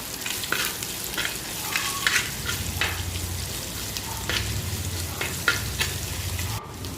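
Curry leaves and shallots sautéing in a pan for a Kerala mackerel curry, a constant crackling sizzle punctuated by frequent scraping stirs of a spoon, close and fairly loud with no talking.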